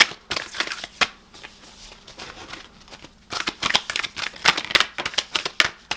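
Tarot cards are shuffled by hand up close, with rapid riffling bursts and soft slaps, a short pause, then a longer, louder run of quick card flicks.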